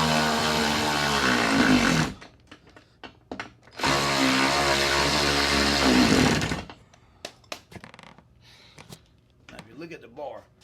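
A power tool tightens a bolt on a golf cart, running in two loud sustained bursts of about two seconds each, separated and followed by clicks and clatter of handling, with a voice speaking briefly near the end.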